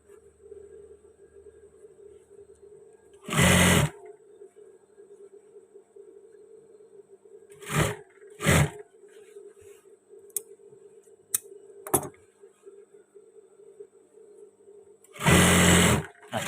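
A sewing machine stitches trouser pieces together in separate loud whirring bursts, two long runs and a pair of short ones, with small clicks between them over a quiet room hum.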